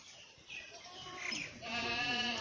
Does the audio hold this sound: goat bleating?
yes